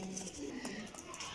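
Pigeons coo softly in a loft of prized flying pigeons, with repeated low murmuring calls and faint bird chatter throughout.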